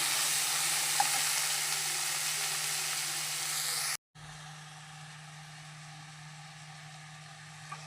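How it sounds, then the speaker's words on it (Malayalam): Tomatoes and onion for a prawn and drumstick curry are sautéed in a pan, giving a continuous broad sizzle with a low steady hum under it. The sound cuts out briefly midway and then resumes a little quieter. "ഒരു രണ്ട് തക്കാളി മുറിച്ചു അതിനതിൻ്റെ കൂടെ ഇടാം എന്നിട്ട് നമുക്ക് നല്ലപോലെ ഒന്ന് വഴത്തി വഴറ്റിയെടുക്കാം"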